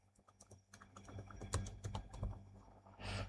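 Someone types on a computer keyboard, a quick, quiet run of irregular keystrokes up close with a short flurry at the end, no voices.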